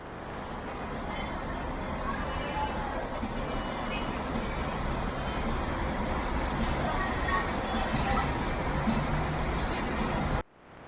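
A big blue Azul tour bus rolls past on a street in João Pessoa, Brazil, a heavy, steady roar of engine and tyres that fills the scene for about ten seconds before cutting off.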